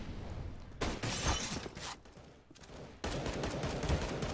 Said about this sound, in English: Hiko having a hard time dealing with Art, missing a lot of shots there